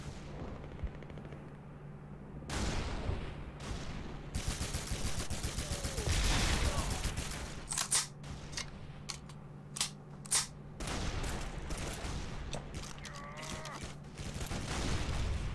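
Enemy guns fire in a North African battle in Call of Duty 2: Big Red One. Bursts of heavy gunfire and booming artillery-like blasts come loud and continuous, with a few sharper shots standing out.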